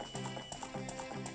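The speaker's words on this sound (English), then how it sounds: "Just slap that horse. And clear these fences." Horse galloping and jumping fences in Zelda: Ocarina of Time 3D, rhythmic repeating hoofbeat clip-clops at a steady quick pace, close and clear, with no talking.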